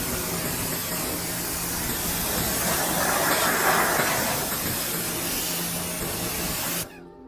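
A pressure washer sprays water over a car engine in a continuous, loud hissing rush that swells slightly midway and then cuts off abruptly near the end.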